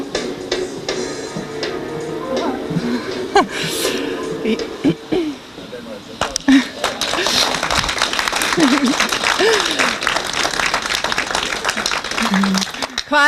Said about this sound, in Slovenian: Hvala za tak lep aplavz.